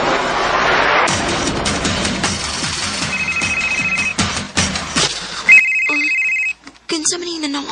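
A phone ringtone rings in short electronic bursts over busy talk and shuffling, then sounds again more sharply once the voices briefly drop away.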